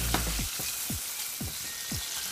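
Guanciale sweating in a pan for carbonara gives a steady, soft sizzle and crackle throughout, with a few faint scraping stirs; no voices.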